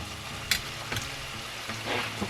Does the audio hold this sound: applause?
no